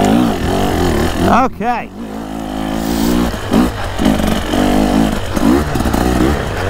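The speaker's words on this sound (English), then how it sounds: "that's how you wheelie a KTM" A KTM 300 two-stroke dirt bike engine revs hard and close, its pitch sweeping up and down in repeated bursts and popping blips, while people talk loudly over it.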